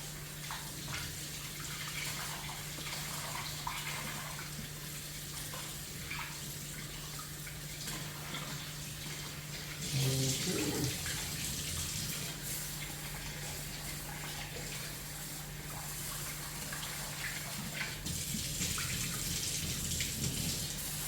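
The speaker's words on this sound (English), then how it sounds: "Be sure to wash your rice." Jasmine rice being washed under running tap water, a steady faint splashing stream with a low hum behind it and louder bursts of sloshing partway through.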